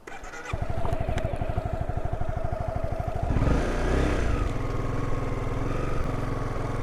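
Honda CBR 250R motorcycle idling with a rapid, even engine pulse, then revving hard and pulling away in a rising roar that settles into a steady high drone as it accelerates, loud and close with no talk.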